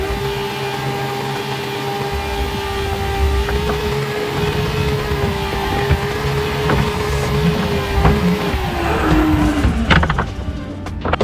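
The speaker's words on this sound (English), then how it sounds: "Let's also try to do a reverse burnout." A car does a reverse burnout, its engine holding a loud steady drone under a rough tyre-skid roar that runs throughout, with the revs dropping near the end.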